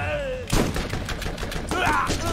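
Weapon fire in the video game Borderlands, a sudden loud burst of repeated shots breaking in after half a second and carrying on through a short, dense stretch of gameplay.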